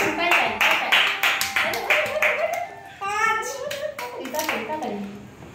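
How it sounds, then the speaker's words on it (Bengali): Hands clap in a quick steady rhythm to cheer on someone eating fuchka in a street-food eating challenge, with children and adults chattering over the claps and a brief whistle-like tone in the middle. "উৎসাহিত করো হাততালি দিয়ে।"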